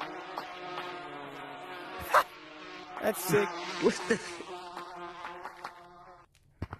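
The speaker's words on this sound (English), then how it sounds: "Jump to the bee swarm right there." A steady droning buzz of a bee swarm in the video game Gorilla Tag hums in the background while excited voices talk and laugh over it.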